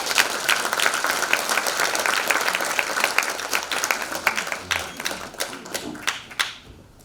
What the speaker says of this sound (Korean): 이덕일 소장님을 큰 박수로 맞이해 주시기 바랍니다